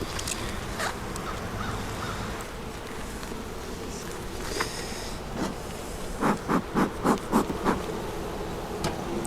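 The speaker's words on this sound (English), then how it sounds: "there's quite a few bees down in the lower deep too" A steady hum of honeybees buzzing at an open hive during a spring inspection in Vermont fills the air, joined near the end by a run of rhythmic crow caws.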